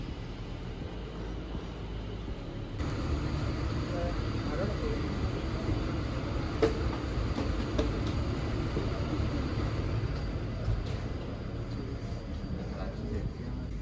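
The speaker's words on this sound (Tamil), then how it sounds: "அண்ட் இது வந்து டபுள் டிக்கெட் ட்ரெயின்." Steady low rumble and rushing hum inside a moving Swiss double-decker train, continuous and fairly loud with faint occasional clicks and rattles.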